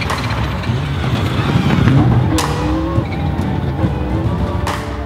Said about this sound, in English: when you shift, the noise, the metallic noise to the gearbox